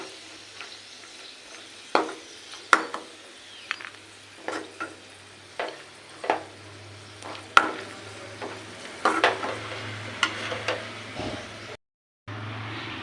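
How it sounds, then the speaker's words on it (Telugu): Semolina (rava) being dry-fried and stirred in a pan for rava laddu, with a steady low sizzle and a series of sharp scraping spoon strokes against the pan at irregular intervals, close and clear. "చూసారు కదండి, రవ్వ ఈ విధంగా సగం ఫ్రై అయిపోయింది"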